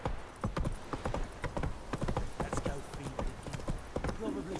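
The horse Roach gallops in the video game Witcher 3, with rapid rhythmic hoofbeats pounding steadily and close throughout, alongside a faint whinny and some background game sounds.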